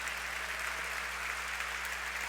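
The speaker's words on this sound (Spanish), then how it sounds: "Denle un fuerte aplauso al Señor." A church congregation applauds together in a steady, dense wash of clapping that fills the whole stretch evenly, with no break or pause.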